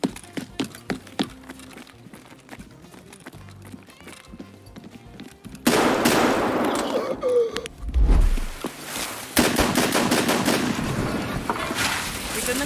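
Wall-banged gunfire in a first-person shooter, loud bursts of shots with impact crackle in the second half, following quieter clicks and footsteps and game ambience.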